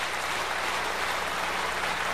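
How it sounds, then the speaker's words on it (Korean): Applause from a church assembly fills the short stretch as a steady, even wash of clapping, moderately loud, with no voices over it. "전체 여러분 박수로 축하해 주시기 바랍니다"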